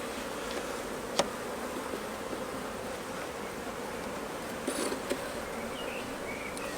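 Honey bees hum steadily around a newly installed nucleus hive during an inspection, a constant close drone with a few individual bees buzzing past and faint clicks.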